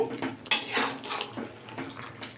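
Metal utensil clanks and scrapes against a cooking pan while chicken and potatoes are stirred together for a chicken dalna, with several close, uneven knocks over a soft background hiss.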